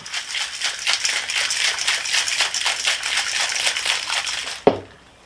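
Ice rattles hard and rhythmically inside a cocktail shaker for several seconds, ending in one sharp clank as the shaking stops.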